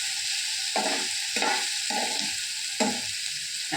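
Grated coconut and dried red chilies sauté in a hot pan, giving a steady sizzle broken by several scraping stirs of a spoon at regular intervals.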